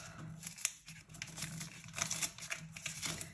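A paper envelope is torn and opened by hand, giving several crisp rustles and rips close up with small pauses between them.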